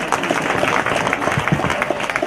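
An audience at a Gujarati motivational speech claps together in a dense, steady burst of applause that fills the space at moderate loudness and keeps going throughout.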